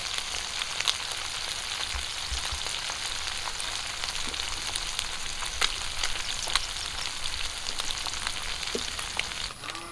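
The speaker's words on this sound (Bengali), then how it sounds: "আর খুব ভালো করে মাছগুলো ভেজে নেবো" Sarpunti fish frying in hot oil in a home kitchen, a steady close sizzle lasting throughout with a few small pops and crackles, no talking.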